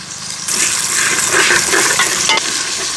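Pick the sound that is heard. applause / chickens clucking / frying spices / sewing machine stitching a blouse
frying spices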